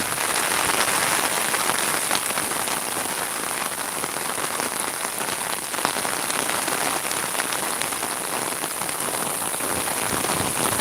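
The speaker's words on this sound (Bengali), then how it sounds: "বৃষ্টি প্রচুর।" Heavy rain pours steadily during flooding along the Surma River in Sylhet, a dense, continuous hiss of drops hitting surfaces close by, even and unbroken throughout with no voices.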